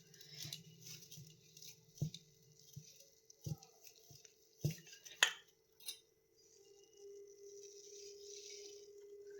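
A hand whisk stirs egg, milk and oil into cake batter, giving irregular clinks and taps against the bowl with wet, sloshing movement, sharper knocks standing out now and then, close and moderately loud with no talking.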